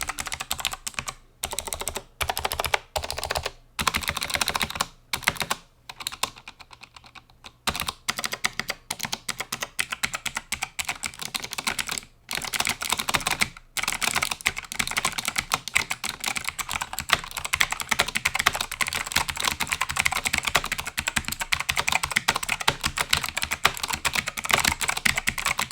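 Typing on a SteelSeries Apex 5 keyboard with hybrid mechanical blue switches, giving close, crisp, clicky keystrokes in uneven bursts and then a fast continuous run, with no voices.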